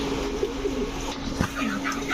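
Beauty pigeons at a pigeon seller's place give soft, low cooing calls, a few short murmuring coos close by over a steady background hum, with no talk.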